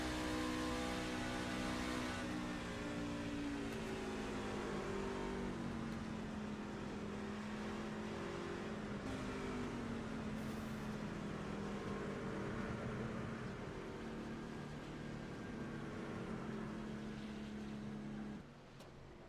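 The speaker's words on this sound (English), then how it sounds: "let's listen to the engine noise here" An on-board racing car engine in a sim racing series screams at sustained high revs through the gears, a steady loud drone with shifting pitch and no talk over it.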